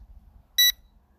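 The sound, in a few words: L200 Pro Max drone beeping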